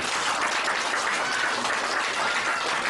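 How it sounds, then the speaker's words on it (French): Sustained crowd applause for President Alpha Condé at an evening music event, a dense, steady clapping that fills the whole stretch at even loudness with no voices on top. "Je vous demande d'applaudir le président Alpha Condé"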